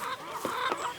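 Straight-run chickens with roosters mixed in give short honking, squawking calls close by, a couple of rough bursts over a murmuring flock.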